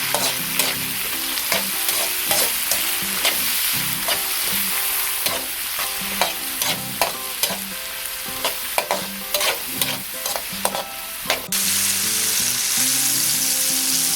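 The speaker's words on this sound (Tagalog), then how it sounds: "Ngayon po ay isusunod na natin ang ating kamatis. Hahaluin na naman po natin." Tomatoes fry in a pan, giving a continuous sizzle. A spoon stirs them in a steady rhythm of repeated scrapes and knocks, and the sizzle carries on alone after the stirring stops.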